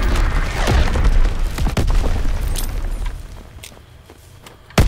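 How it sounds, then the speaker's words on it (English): Enemy mortar fire in a shooter video game: a series of heavy booming impacts and thuds in the first half, then fading to quieter rumble before a final sharp blast. "Enemy mortar fire incoming!"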